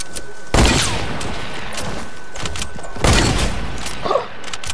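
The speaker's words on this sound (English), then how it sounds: "why are my shots not registering my hunting rifle shots?" Two loud, sharp hunting rifle shots in the video game Fortnite, each a booming crack followed by a short rumbling tail, spaced a few seconds apart with quieter game ambience between.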